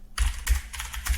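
Loud computer keyboard typing during a basketball podcast, three or four heavy clustered bursts of keystrokes close to the microphone with no talking.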